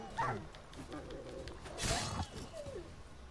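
Large dogs growl and bark in combat in the video game The Witcher 3, giving a few rough, close barks and snarls mixed with clashing game sounds.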